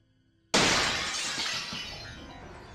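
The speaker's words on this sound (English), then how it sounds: "I woke up to the sound of my window shattering" A bedroom window's glass shatters in one sudden loud crash, followed by a long bright spray of falling shards that slowly fades over about two seconds, with no voices.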